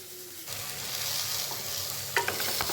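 Food frying in a wok, a soft sizzle that picks up after a moment, with a few sharp stirring clinks near the end and no voices.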